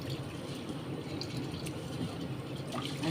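Red lentils being washed by hand in a bowl of water, a steady close sloshing and splashing that continues without pause, with no one talking.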